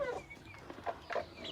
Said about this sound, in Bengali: তো দেখুন দর্শক, আমার মুরগিগুলো অনেক ছটফট করতেছে